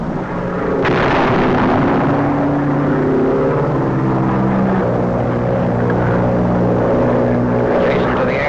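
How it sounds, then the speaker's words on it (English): Corsair fighter planes of the 2nd Marine Aircraft Wing attack Bloody Nose Ridge in World War II, with a loud, sustained roar of aircraft engines and heavy rumbling blasts. One sharp explosive crack comes early, and the sound is dense and continuous. "Corsairs of the 2nd Marine Aircraft Wing, operating from a nearby airfield, attack Bloody Nose Ridge"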